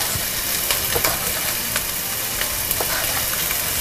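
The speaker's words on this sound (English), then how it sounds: "now I'm gonna put in some olive oil inside the pan. And then let's put in the onions." Onions frying in olive oil in a pan, a steady loud sizzle with occasional crackles and pops, heard close up and alone throughout.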